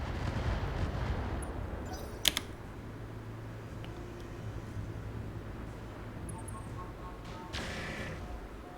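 Weapons fire in the Roguetech BattleTech mech game: a sharp single shot cracks near the start, followed later by a longer burst of impacts, over a low rumbling ambience.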